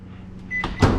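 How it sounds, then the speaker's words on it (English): A microwave oven door shuts with a short electronic beep followed by a solid thump, close and clear in a home kitchen while oatmeal is being made. "So now goes into the microwave."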